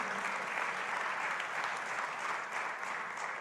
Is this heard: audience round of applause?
yes